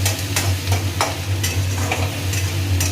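Onions fry in a hot pan while being stirred, a steady close sizzle with repeated scraping strokes of the utensil spread evenly through the moment, no voices.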